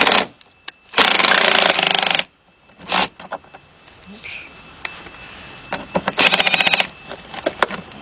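Power tool whirring in short bursts as 8mm screws are backed out of a BMW 3 Series headlight with a nut driver, close and loud, with quiet clicks and handling noises between the runs.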